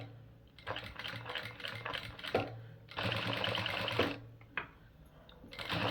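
A Jack sewing machine stitches a patch over a hole in cloth, its rapid mechanical needle chatter running in bursts with short pauses between runs, close and fairly loud, with no talking.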